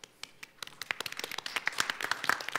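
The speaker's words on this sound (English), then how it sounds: "we have to give him actually warm applause for his hard work" A conference audience at an evening session of a policy forum breaks into applause, brisk scattered clapping that thickens into a dense, close round over a few seconds.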